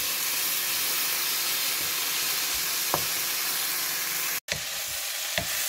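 Mushrooms frying in a pan for a braised oxtail and shrimp fricassée, a steady close sizzle and hiss throughout, with a couple of soft clicks and a brief dropout near the end.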